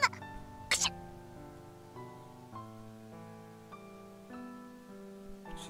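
A young woman's sharp, forceful sneeze bursts out over soft, sustained background music, with a couple of other brief breathy bursts close by.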